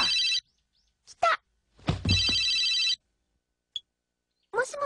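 A telephone rings in loud, bright electronic bursts, one long ring and then a second, with brief rustling and short noises in the quiet gaps between them.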